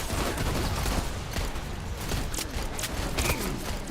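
Gunfire crackles through a firefight in the video game Wild Assault: rapid bursts and scattered sharp shots, close and loud, with mechanical clatter between them.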